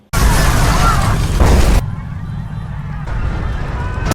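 A bomb explodes in a car park, a loud, broad blast roaring for nearly two seconds, then dropping to a lower rumbling wash of debris and noise that lingers afterward.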